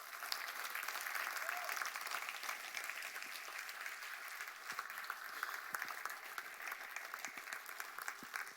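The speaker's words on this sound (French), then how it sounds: "Est-ce qu'on peut applaudir Jésus?" A church congregation applauds during a service, sustained scattered clapping heard at a distance, fairly faint yet continuous for several seconds with a few sharper individual claps.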